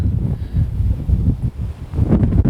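Wind gusts buffet the microphone at a lakeside feeder fishing spot. The low rumble surges and fades in uneven waves, with some faint rustling near the end.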